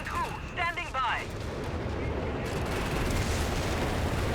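An artillery barrage rolls across the battlefield in the real-time strategy game Company of Heroes 3. A few short tonal effects give way to a sustained, dense roar of impacts and rumbling explosions.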